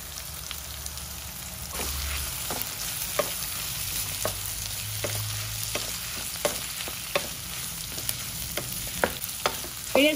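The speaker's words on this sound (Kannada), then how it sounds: "ಈಗ ಕಟ್ ಮಾಡಿರೋಂಥ ಲಿವರ್ ಗೀಜ ಹಾಕ್ತಾ ಇದ್ದೀನಿ." Chopped chicken liver and gizzard fry in hot oil with onion and tomato, giving a steady close sizzle broken by sharp spatula clicks and scrapes against the pan.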